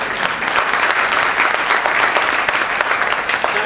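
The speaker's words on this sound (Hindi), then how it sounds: "तो जोरदार तालियां अपने लिए बजाओ।" Loud, sustained applause from a crowd at a sales training program, dense clapping that holds steady throughout with no break.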